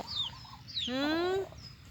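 A rooster crows once, a loud, clear rising-then-sustained call lasting about half a second, preceded by brief chirps and clucks from nearby chickens.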